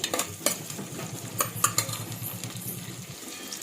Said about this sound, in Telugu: ఇప్పుడు ఆనియన్స్ ఫ్రై అయితే చేస్తుంది. ఆనియన్స్ని కలుపుతుంది.